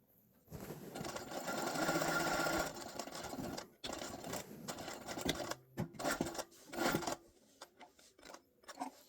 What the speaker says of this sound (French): on va venir faire aussi un petit point d'arrêt à la fin de la couture